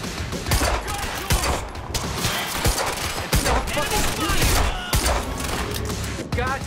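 Gunfire in the video game Quantum Break: rapid bursts and overlapping shots from several weapons, loud and close, with shouted voices and combat chatter running under the firefight.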